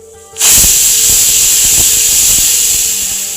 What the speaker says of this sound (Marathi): कुकरच्या दोन शिट्ट्या करून झालेल्या आहेत